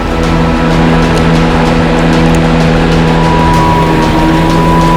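A Toro 60V Flex-Force cordless 21-inch lawn mower runs at full speed, a loud, steady motor-and-blade whine with a constant hum, close up and uninterrupted.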